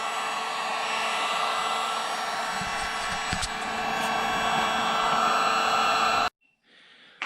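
A heat gun blows steadily and loudly as it heats a body panel on a 2014 Ford Expedition to soften the glue, a constant airy whir that cuts off abruptly near the end.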